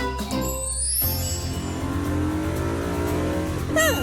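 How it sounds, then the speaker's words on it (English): Cartoon cars racing, a black car and a pink one, with steady engine revving and rising whine that builds and sweeps upward, loud and continuous without any talk. "Pit is racing his black car. And Penny is racing her pink one."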